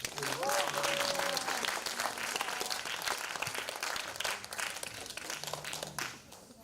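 An audience at a children's theatre festival in Korea claps warmly, loud at first and gradually thinning before fading out, while a voice speaks over the applause through a microphone.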